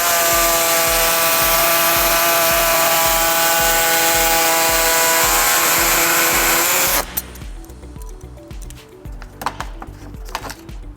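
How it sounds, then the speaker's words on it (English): A power tool whines loudly and steadily as it trims the rear bumper air deflector on a 2014-2019 Toyota Highlander, then cuts out, leaving scattered clanks and handling noises. "Next, we're going to be trimming the air deflector"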